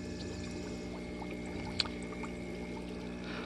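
Air bubbles through compost tea brewing in an outdoor rainwater barrel, a steady, even burbling hiss with a faint aerator hum beneath, continuous and unbroken with no voices.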